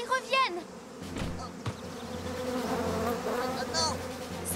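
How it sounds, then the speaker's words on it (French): Cartoon bees buzzing in a children's animated show, a steady insect drone swelling and wavering for several seconds as the swarm comes back, with brief squeaky character sounds and a couple of sharp knocks over it. "Oh, regardez, les abeilles reviennent."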